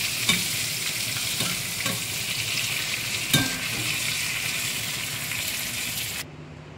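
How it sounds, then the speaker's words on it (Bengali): Pieces of pointed gourd (parwal) frying in oil until well browned, a constant close sizzle broken by several clicks and scrapes of a stirring utensil against the pan, with no voices, cutting off just before the end. "পটলগুলো খুব ভালো করে লাল লাল করে ভাজা হয়ে গেছে।"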